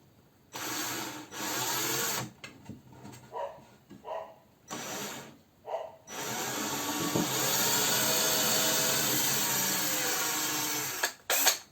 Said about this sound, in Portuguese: vamos fazer o furo